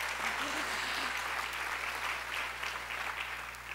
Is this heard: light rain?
no